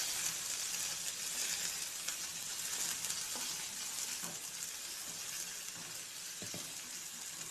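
Five or six finely chopped small shallots frying gently in oil for a drumstick-leaf stir-fry: a faint, even sizzling hiss with a few soft clicks of a spatula, and no one speaking.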